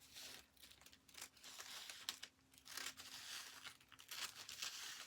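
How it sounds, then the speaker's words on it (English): Scissors snip through a paper sewing pattern piece during hip-decrease pattern fitting, giving faint, close crinkling and tearing-like cuts in short bursts with brief pauses. "after we done our line, we cut out the new pattern piece"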